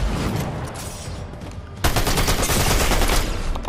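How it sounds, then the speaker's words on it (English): Rapid SMG gunfire in Fortnite, with dense bursts of fast shots, loud and close, that grow heavier and more continuous partway through. "Let's just use my SMG."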